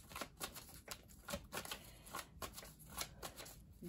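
Tarot cards are shuffled by hand in a quiet room, a rapid run of soft riffling flicks repeating in quick bursts, close and gentle, with no talking.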